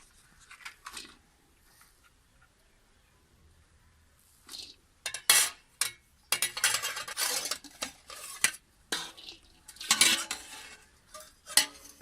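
Grated carrots are tipped into a kadhai, producing scraping, clattering and metallic clinks of a utensil against the pan in irregular bursts after a quiet start, close and fairly loud.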